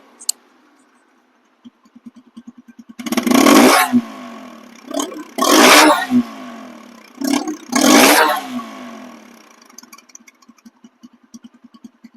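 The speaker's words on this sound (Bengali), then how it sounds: "ইঞ্জিন সাউন্ড হুবাহুব ওইরকমই কিন্তু আছে আমি শোনাইতেছি" A 2021/22 TVS Apache RTR 160 2V motorcycle engine idles with a steady putter, then revs hard in three loud bursts separated by short drops back to idle, close by.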